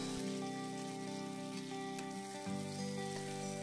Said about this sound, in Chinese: 倒入鹌鹑蛋，中小火不停的煸炒